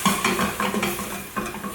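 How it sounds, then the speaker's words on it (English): Ground beef browning in a pan for enchiladas, heard as close, steady sizzling with spatula scrapes and stirring clatter against the pan, with no talk. "Right here, I'm browning some ground beef"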